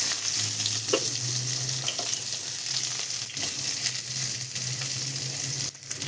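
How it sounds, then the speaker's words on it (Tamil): Onions sauté in hot oil with mustard seeds, cumin and dried red chillies, a steady close sizzle with occasional pops and light stirring scrapes, while a low hum comes and goes underneath. "வெங்காயம் வதக்கிட்டு"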